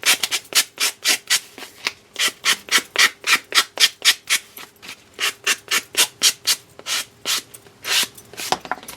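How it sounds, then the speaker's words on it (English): A sanding block rubbing across paper glued to a coaster, rapid rhythmic back-and-forth scrubbing strokes, close and loud, about two dozen passes with brief pauses. "next I'm going to take a sanding block."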